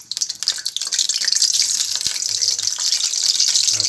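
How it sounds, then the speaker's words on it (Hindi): Eggs in oil in a pan give a steady, loud sizzling hiss with no pause, and a few faint low bumps sit under it. "आप देख सकते हैं जैसा कि अंडे ऑयल में हैं"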